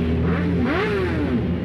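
Motorcycles rev at a Sindh Rangers independence bike rally, engine pitch rising and falling in a loud, continuous, close drone.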